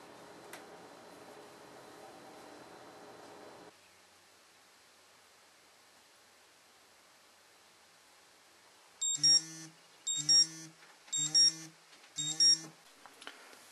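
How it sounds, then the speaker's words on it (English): A kitchen timer set while making homemade feta cheese goes off with four loud, evenly spaced bursts of rapid electronic beeping, following a quieter stretch of background hum and near silence. "I'm going to set the timer for 1 hour. And when that timer goes off"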